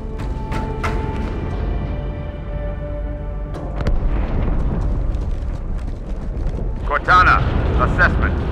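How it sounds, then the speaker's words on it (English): An explosion inside the ship Athens in the video game Halo: a deep, sustained rumbling blast that swells midway and again near the end, set amid layered game sounds and tones. "That explosion came from inside the Athens."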